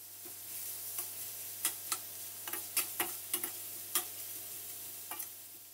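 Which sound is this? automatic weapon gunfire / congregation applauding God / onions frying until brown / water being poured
onions frying until brown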